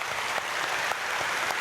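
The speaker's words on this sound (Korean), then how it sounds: "1학년 학생들 박수 한번 해주세요" First-grade children clap together in a church, a short burst of dense, even applause heard from a moderate distance.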